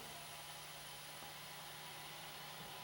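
Air hisses steadily back into the chamber of a Vollrath in-chamber vacuum packaging machine after a block of cheese is sealed, a faint, even rush with a low machine hum underneath.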